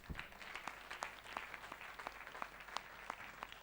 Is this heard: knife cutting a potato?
no